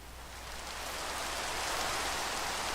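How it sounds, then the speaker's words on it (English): Rain falling by a river in the video game Minecraft, a steady dense hiss that swells slightly and continues evenly. "Of course, it always rains in the river."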